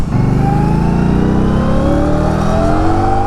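An Indian Scout Rogue motorcycle engine revs up under light throttle during a test ride, a loud, close, rising mechanical roar with steady pitch climbing, no talking.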